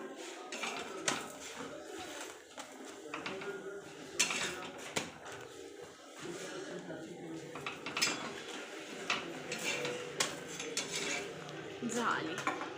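Chapati cooking on a tawa griddle in a village home kitchen: soft clinks and scrapes of utensils and pans recur irregularly at low volume, with occasional faint voices in the background.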